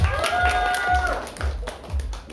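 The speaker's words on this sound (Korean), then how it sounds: "박수 부탁드릴게요" Audience at a live party performance with jazz, classical and vocal acts clapping in a brief spell of rhythmic handclaps, under a voice speaking over a microphone.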